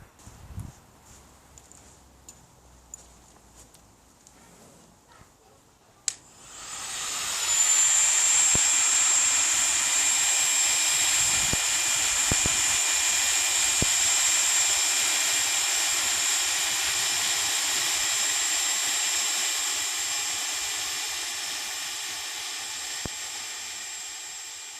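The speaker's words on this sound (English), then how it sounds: "I've gone over them with the heat gun" Heat gun curing high temperature exhaust paint switches on after a few seconds of quiet clicks, then blows with a loud, steady, high-pitched roar that holds with a faint whine.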